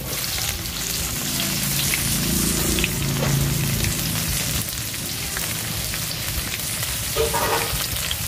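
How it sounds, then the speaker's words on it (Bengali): Chopped onion fries in hot oil with garlic, giving a dense, steady sizzle with a rain-like crackle, close and loud throughout, with occasional stirring. "এবারে দিয়ে দেবো পেঁয়াজ কুচি"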